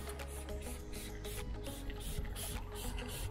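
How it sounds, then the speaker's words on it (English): Decal remover sprayed across the back of a van, a run of repeated hissing trigger-spray bursts in steady rhythm, fairly faint and close, with nobody talking. "so we just spray the whole back of this van down with this product"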